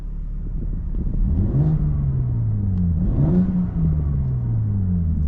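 A 2024 BMW M4 Competition xDrive engine revs up twice in burble mode, rising and falling, with a deep rumbling exhaust that crackles and burbles between revs, close and loud.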